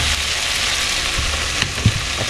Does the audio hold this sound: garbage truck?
no